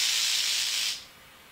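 A black tail rattlesnake buzzes its tail in a steady, loud, close hiss lasting about a second, then it cuts off to quiet.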